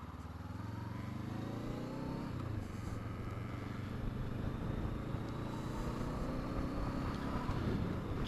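Motorcycle engine hums steadily on the road, fairly faint under wind noise buffeting the microphone, with a slight pitch shift as the bike changes speed.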